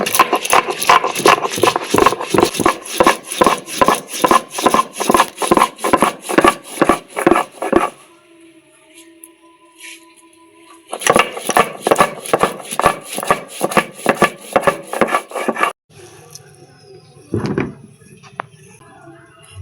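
Black and yellow mustard seeds being ground, loud rapid rhythmic pounding and rattling in bursts with short quiet gaps between.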